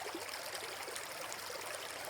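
A wide stream splitting a grassy meadow, a steady soft rush and trickle of flowing water, even and fairly faint with no voices.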